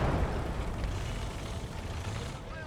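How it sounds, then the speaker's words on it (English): A heavy explosion in the World War II strategy game Gates of Hell: Ostfront, a loud, dense rumbling blast with debris noise that holds steady for a couple of seconds before easing off. "Explosion."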